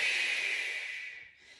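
A single long, close breath out during a floor-based mobility exercise, an airy hiss that starts strong and gradually tapers off, with no speech.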